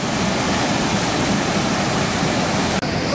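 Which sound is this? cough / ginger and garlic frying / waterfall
waterfall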